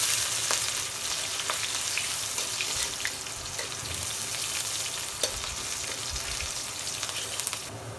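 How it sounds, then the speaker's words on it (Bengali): Whole cumin and onion fry in hot oil in a wok, a steady close sizzle with occasional stirring clicks and scrapes running through. "তরকারি কষানোর জন্য কড়াইতে তেল দিয়ে দেব। তেলের উপরে দিয়ে দেব সামান্য গোটা জিরা, দিয়ে দেব পেঁয়াজ,"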